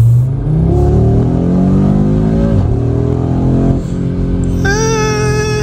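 A 2024 Audi RS3 engine on its factory map revs up loudly and close, pitch climbing steadily, dipping briefly, then rising again in a strong sustained pull.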